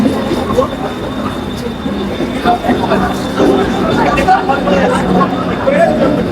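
A train rumbles steadily nearby with rail noise throughout, while people talk over it.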